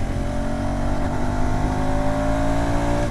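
A 2026 KTM Adventure 390 motorcycle engine, 350cc, revs hard past 7000 RPM, its loud steady drone climbing gradually in pitch with no pauses.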